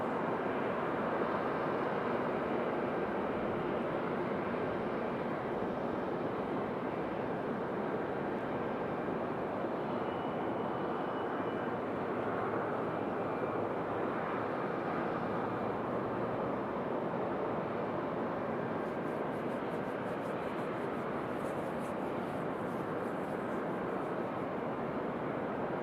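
Jet engine roar from an airliner on the ground at Raleigh Durham International Airport comes as a constant broad rumble, distant and even, with wind-like noise throughout.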